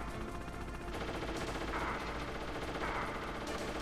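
Gunfire in the Metal Gear Solid video game on PC during a boss fight, a dense steady run of shots with game music and effects filling the whole stretch at a constant level.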